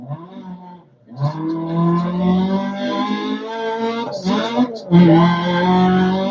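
Rally car engine in Dirt Rally 2.0, revving with rising and falling pitch as gears change, loud and continuous after a brief quiet start, with a voice chatting over it.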